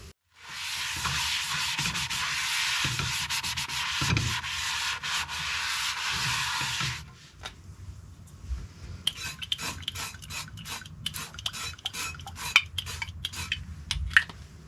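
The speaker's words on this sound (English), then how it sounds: "I'm also going to wipe this out and put some fresh oil in." Vigorous wiping and rubbing inside a Remoska Tria electric cooking pan, a steady scrubbing rasp for about seven seconds, then lighter scattered scrapes and clinks of the pan and utensils.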